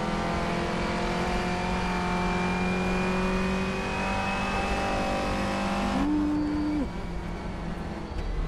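A Clio Cup 2015 race car engine in rFactor 2 at Toban drones steadily at high revs with layered harmonic whine, then shifts pitch briefly near the end, loud and continuous.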